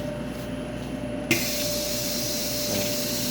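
Vacuum sealer machine sealing a pack of Angus wagyu beef striploin runs with a steady broadband hiss and motor whine, which surges sharply louder partway through and holds there, close and alone.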